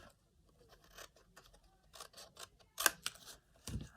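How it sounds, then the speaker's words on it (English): Scissors cut through card for a small box, giving a few crisp, close snips that grow sharper toward the end after quieter rustling. "Go from the corner on the front to the corner at the back and cut it off."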